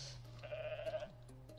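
A goat in the video game Goat Simulator lets out a single wavering bleat, close and clear, over a low steady background hum.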